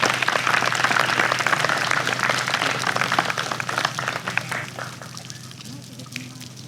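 An audience at a community tribute event claps to welcome a police chief to the podium, a dense burst of applause that thins and fades out over several seconds.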